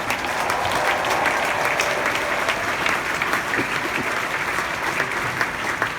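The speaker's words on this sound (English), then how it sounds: "let's give the dads in particular a round of applause" A large outdoor audience at a Stanford University commencement applauds the fathers on Father's Day, with dense, steady clapping that holds loud and unbroken.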